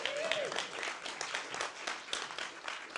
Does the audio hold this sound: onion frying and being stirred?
no